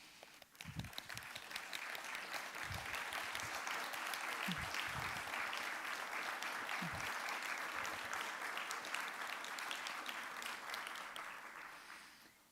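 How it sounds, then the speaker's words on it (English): A conference audience gives a long, even round of applause for newly recognised full members, a dense steady wash of clapping at moderate distance with a few low knocks and shuffles underneath, fading out at the end. "let's give everybody who has done that a round of applause"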